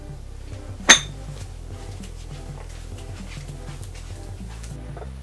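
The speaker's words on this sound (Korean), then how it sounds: "뚜껑을 덮어줍니다." A single bright clink sounds as a lid is set on a pot of homemade Japanese amazake, a short metallic knock followed by quiet kitchen background.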